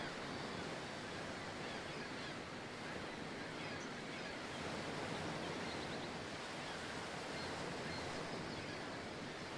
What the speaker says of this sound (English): the sound of water.